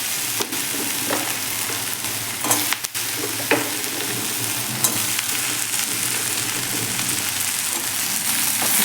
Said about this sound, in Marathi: हे देखील आपल्याला यामध्ये व्यवस्थित असे परतून घ्यायचे आहे